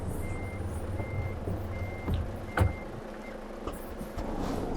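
Reversing beeps from a Renault Trucks T pulling a curtainsider trailer in Euro Truck Simulator 2, steady evenly spaced tones repeating over a low diesel engine rumble, with a brief air-brake-like hiss midway.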